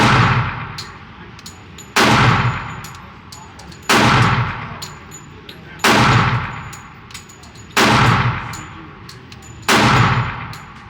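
A Walther PPQ pistol chambered in .45 ACP fires six loud, sharp shots, evenly spaced about two seconds apart, each followed by a ringing decay.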